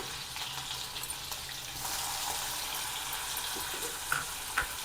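Chopped onion with garlic and green chilli sautés in a pan for jhunka, a soft continuous sizzle with a couple of light scraping knocks of a spoon near the end.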